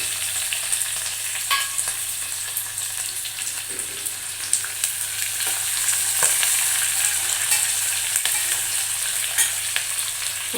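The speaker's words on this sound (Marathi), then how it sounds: "आता आपण त्यात मोहरी टाकू" Mustard seeds crackle and sizzle in hot oil for chivda, a steady bright frying hiss with scattered sharp pops, close up and uninterrupted by talk.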